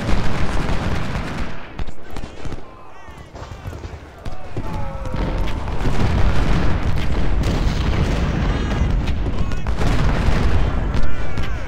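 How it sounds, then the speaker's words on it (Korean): Musket volleys crackle in a Civil War battle in Ultimate General: Civil War, repeated shots and booms rolling through the scene with a voice talking over the gunfire. "스미스는 총 쏘고 빠지고 총 쏘고 빠지고"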